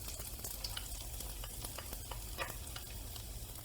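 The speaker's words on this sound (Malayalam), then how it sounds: "പാൻ ചൂടായപ്പം ഞാൻ അതിലേക്ക് 3 അല്ലി വെളുത്തുള്ളി ചെറുതായിട്ട് അരിഞ്ഞത് ഇട്ട് കൊടുക്കുകയാണ്." Three cloves of finely chopped garlic sizzle in hot olive oil in a pan, a steady close crackling fry with a few soft stirring clicks, quiet and unbroken; no talking.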